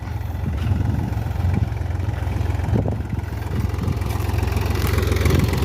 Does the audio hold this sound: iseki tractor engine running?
yes